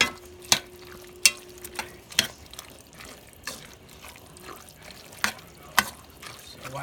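Stuffed pepper filling with green onions cooks and is stirred in a pan, a soft steady sizzle broken by several sharp clacks of a utensil against the pot.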